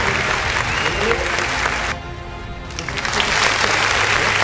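Loud, sustained clapping from a crowd, dipping briefly in the middle before swelling again, with no one speaking over it.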